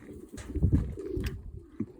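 Pigeons coo softly in a loft, with a few low, throaty murmurs overlapping in a short stretch and no voices.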